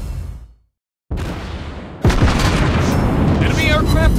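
Torpedo explosions from a Soviet cruiser, Admiral Makarov, in the naval video game World of Warships Blitz: a sudden booming blast after a brief silence, followed by a loud sustained rumble with crackling.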